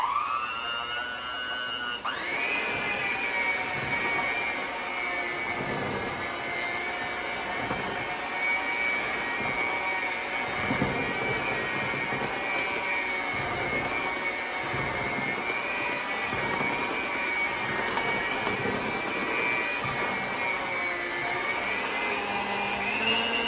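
An electric mixer whirs into a loud, steady high-pitched drone as it mixes carrot cake batter, running continuously for over twenty seconds with slight shifts in pitch as it works the bowl.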